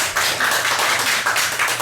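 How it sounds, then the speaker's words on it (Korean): An audience applauds a speaker on stage, with dense, continuous clapping that stays loud and even through the short stretch. "박수 한번 보내주신 거예요"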